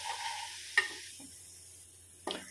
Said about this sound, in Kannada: ರವೆ ಒಳ್ಳೆ ಫ್ರೈ ಆಗಲಿ ಪರಿಮಳ ಬರುವಷ್ಟು.